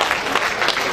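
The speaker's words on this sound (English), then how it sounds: "Can we give him a round of applause?" A crowd at a legal inauguration event applauds, a brief, loud, dense burst of many hands clapping at once.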